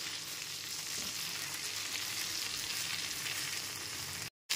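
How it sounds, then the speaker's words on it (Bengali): Eggplant pieces fry over a medium gas flame, giving a steady, dense sizzle that holds evenly throughout and then briefly cuts out near the end. "এবার গ্যাসের ফ্লেমটা মিডিয়ামে রেখে বেগুনের টুকরোগুলোকেও ভেজে নেব।"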